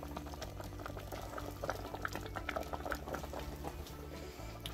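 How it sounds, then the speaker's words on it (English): Berry jam of thimbleberry, wild raspberry and blackberry boils down in a pot, a steady close bubbling and popping with soft liquid patter throughout, no talk. "Slow process of letting it boil down."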